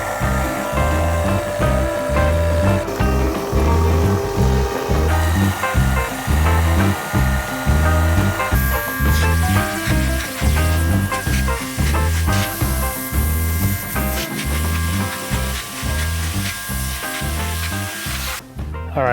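Electric pressure washer spraying a concrete sidewalk, a steady loud hiss of water over a pulsing motor hum, close by and continuous, with no talking.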